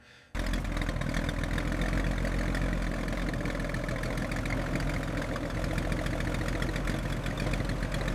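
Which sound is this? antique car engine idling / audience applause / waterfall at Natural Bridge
antique car engine idling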